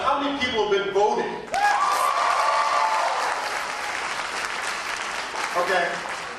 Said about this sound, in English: by applause, how many people have been voting?